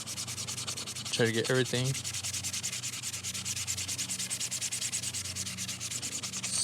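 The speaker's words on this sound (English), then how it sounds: "Now I'm gonna do it with this fine sponge sander." Fine sponge sander works wet across a 3D-printed PLA popcorn bucket, making steady rhythmic rubbing strokes close to the mic; a short burst of speech comes near the start.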